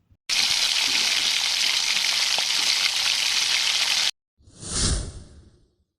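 Loud, steady sizzling of cumin seeds hitting hot oil for several seconds, followed by a brief silence and then a short swishing burst.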